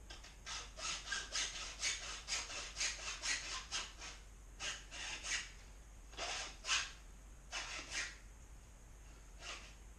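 A hacksaw cuts along a PVC pipe recurve bow limb in repeated rhythmic back-and-forth strokes: a quick run of close strokes, then shorter bursts after brief pauses.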